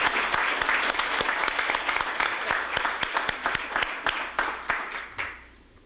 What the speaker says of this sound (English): please give the round of applause where it belongs to Adrian.